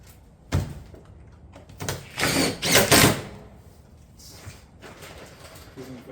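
A power drill drives fasteners into metal rake panels during a Shingle Direct roofing install, with several short whirring bursts and a louder, longer run in the middle, close by amid quiet background noise.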